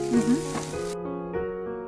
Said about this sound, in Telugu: క్యాప్సికమ్ ముక్కలు దీంట్లో ఈ మసాలా కొద్దిగా వేగాలండి